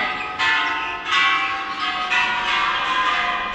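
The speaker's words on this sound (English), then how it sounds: "Can hear people hitting the bells outside." Temple bells struck outdoors in Thailand ring out in three clear strikes, each followed by a long, bright, shimmering ring that overlaps the next, loud and close with no talking.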